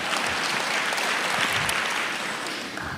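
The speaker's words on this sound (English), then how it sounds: "You can clap, I think it's a good sign." A church congregation applauding, a dense, steady wash of many hands clapping together, filling the room evenly and tapering only slightly at the end, with no voices over it.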